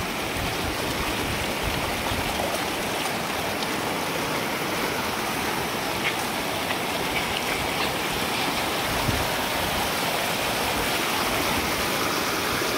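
Swollen Kali Khola river in flood after extreme rain, overflowing onto the road and into a pond, a loud, dense, unbroken roar of rushing water throughout, with no voices.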